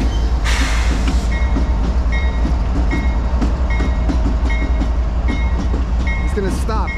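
Freight train 62V rumbles steadily along the Lehigh/CSAO line with a continuous low roar and faint rhythmic clacks, joined by a brief higher whine near the end as it stops at a red signal.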